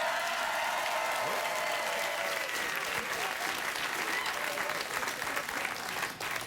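A late-night television studio audience applauds, a dense sustained wash of clapping filling the room without pause, with faint voices under it.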